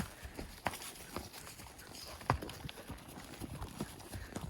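Horse hooves clop unevenly on a hard, rocky trail above a river, a steady walking rhythm with scattered sharper knocks, faint against an outdoor background.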